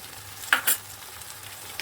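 Milky spiced water poured into a hot pan of Bengali papaya malaikari, giving two short sharp sizzles close by over a quiet background.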